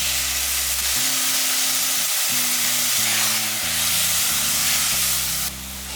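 Soaked moong dal drops into a hot pan and sizzles loudly and steadily, a continuous frying hiss with no voices.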